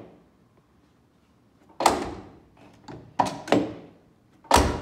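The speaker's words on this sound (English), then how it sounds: "I mean, this door opens and closes like flipping brand new." Door of a 1974 Ford Ranchero, off the road for 30 years, swung open and shut: several close, solid latch clunks and thuds spaced across a few seconds, with quiet pauses between.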